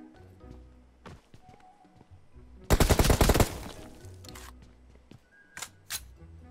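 Gunfire in PUBG, a loud sustained burst of rapid automatic shots in the middle, with a few scattered single shots before and after amid quieter game sounds.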